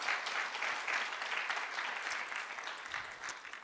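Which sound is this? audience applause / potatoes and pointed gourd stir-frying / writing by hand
audience applause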